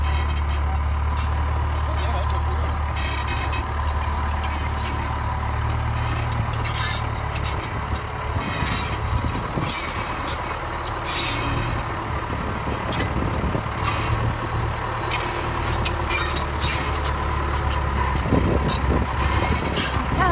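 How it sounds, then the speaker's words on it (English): Heavy diesel engine of a bulldozer at a construction site laying retaining wall blocks, a steady loud rumbling drone throughout with faint metallic clanks and some distant voices beneath. "I would love to learn how to drive one of these Dozers"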